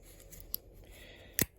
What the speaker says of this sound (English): 91mm scissors